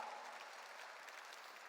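A church congregation claps during a sermon, giving a brief, dense, continuous wash of applause at moderate distance with no clear individual claps.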